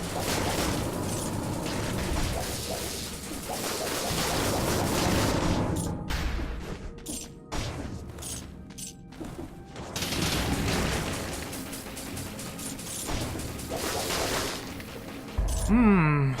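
Fire grenades exploding in the video game Dead Cells, with dense rapid booms and crackling blasts layered over busy game effects and music, loud and continuous with brief quieter gaps.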